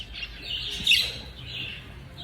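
A pet macaw gives a single sharp, shrill squawk up close, standing out over a faint, steady background.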